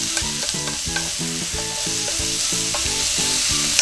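Mushrooms stir-frying in butter in a pan, a continuous bright sizzle broken by a steady rhythm of repeated scraping strokes, close and fairly loud, with no voices.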